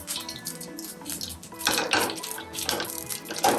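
Mustard and cumin seeds splutter in hot oil in a swirled pan for a South Indian masala dosa tempering. Close crackling pops and sizzles come in bursts over soft background music.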